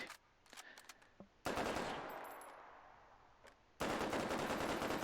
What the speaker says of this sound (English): So this is the BAR in fast fire mode, and it is very good at pummeling.